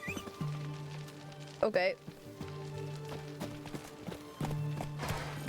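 Roach the horse gallops in The Witcher 3, hooves clip-clopping in a steady repeating rhythm at close range, with a brief snort or whinny partway through and someone speaking briefly over the hoofbeats.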